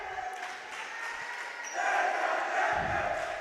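Student cheer block at a JV/varsity high school volleyball game between Eastern Hancock and Monroe Central, crowd voices swelling into a louder collective cheer partway through, heard from within the gym.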